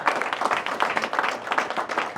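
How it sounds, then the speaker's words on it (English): A crowd at a city announcement event gives a round of applause. The clapping is brisk and dense and stays steady from start to finish of the short stretch. "I also, yes, give Courtney a big round of applause."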